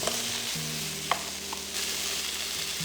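Onions, carrots and potatoes fry in a pan, giving a steady close sizzle with stirring scrapes and a couple of brief clinks, no voices.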